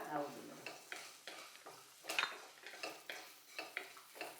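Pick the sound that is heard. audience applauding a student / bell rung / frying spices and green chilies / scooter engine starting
frying spices and green chilies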